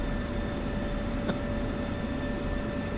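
Steady broadband jet roar of F-16C Viper fighters taking off in DCS World, a continuous loud engine wash with constant tonal whine and a brief burst midway, no talking.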